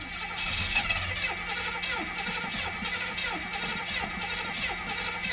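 A 1978 Oldsmobile Calais engine runs rough and uneven, its idle stumbling with irregular pulses and misfire-like dips, close and steady throughout with no talking.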